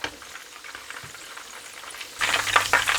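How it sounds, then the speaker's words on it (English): Oil sizzles and crackles steadily as kebabs fry, growing much louder partway through as more kebabs hit the hot pan, close up. "I'm just going to continue frying the rest of them"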